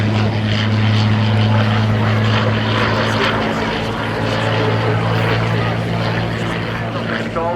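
A propeller warplane with a Merlin engine passes at an air show in Shoreham, a loud steady drone with a deep throbbing hum filling the whole clip.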